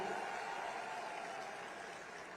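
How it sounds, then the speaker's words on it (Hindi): Faint, distant applause from an audience in an auditorium in Gujarat, India: a steady wash of clapping that continues evenly and slowly fades slightly. "जरा जोर से ताली बजाओ"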